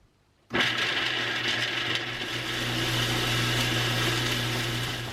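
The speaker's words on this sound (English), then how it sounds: "So now we're moving it to the food processor. We're gonna mix the whole thing and make a paste." A food processor starts abruptly and runs steadily, whirring loudly as it blends cookie dough into a paste, with a constant motor drone and no voices.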